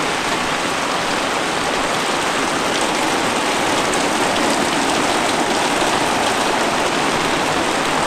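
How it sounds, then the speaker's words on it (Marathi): Heavy monsoon downpour soaking a muddy courtyard in the Konkan region, a dense, steady roar of rain close by, unbroken and loud for the whole stretch with no voices. "जाम पाऊस."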